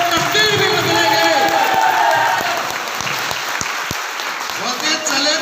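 Seminar audience at a network marketing event applauding with hands raised, dense sustained clapping filling the room, loud and close, with some cheering and a voice mixed in.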